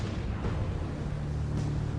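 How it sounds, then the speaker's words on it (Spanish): Destroyer naval guns of 12 cm calibre fire in sustained heavy booming with a dense, continuous rumbling roar and no voices. "Hacen más de 600 disparos con sus cañones de 12 centímetros."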